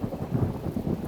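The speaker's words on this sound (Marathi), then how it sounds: "पण अचानक पाऊस सुरू झाला. कोसळत राहिला." Heavy rain pours down steadily while thunder rumbles low underneath, a dense continuous wash of sound with no voices, during a sudden downpour on a full-moon night.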